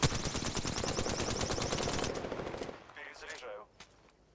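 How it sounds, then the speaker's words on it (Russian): Rapid automatic gunfire from enemies in the shooter game Apex Legends rattles loudly for about two seconds, then fades into scattered game effects and softer background sounds. "враги стреляют по мне"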